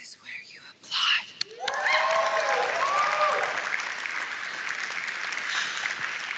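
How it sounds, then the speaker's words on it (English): Audience applause at a Microsoft Build after party, a burst of clapping rising after brief murmurs and holding steady at moderate volume from a crowd in a room. "This is where you applaud."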